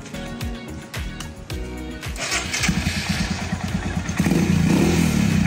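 A Royal Enfield Himalayan motorcycle cranks and starts, its single-cylinder engine settling into a steady thumping idle that grows louder and rougher as it revs, heard close with no talking.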